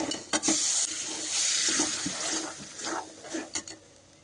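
Lentils scrape and rustle against a pan as they're stirred into a spiced tempering, with a faint sizzle underneath and a few sharper clinks of the spoon.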